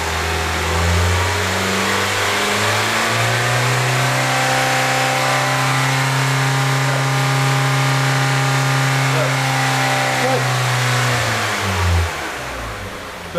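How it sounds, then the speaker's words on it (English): A car engine is revved and held at high rpm for several seconds during scan tool and oscilloscope testing, then drops back to idle. The tone is loud and steady, with a rising pitch at the start. "race it up for a second, Pierre."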